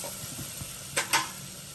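Salt and chili spices fry in oil in a pan over a low flame for a Kathiyawadi vegetable dish, giving a faint, steady sizzle broken by two short stirring scrapes, with no talk.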